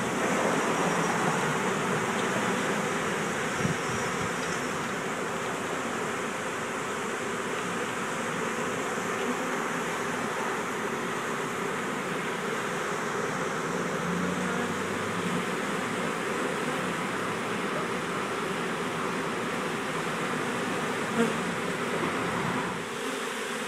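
Honey bees swarming around a hive under a porch in Algiers, Louisiana, a dense steady buzzing drone that fills the whole stretch, loud and close with no talking.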